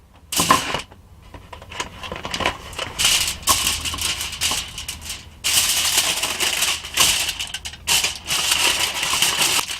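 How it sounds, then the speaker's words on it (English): Aluminum foil crinkles and crackles in dense bursts as two small sausage patties are wrapped tightly inside it, heard up close in a travel trailer with no talking. "I'm going to wrap 2 of these little sausage patties"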